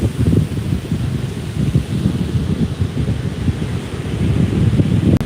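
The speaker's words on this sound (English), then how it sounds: "it's windy out here" Loud, gusty wind buffets the microphone with a constant low rumble and roar, unbroken throughout and with no one speaking.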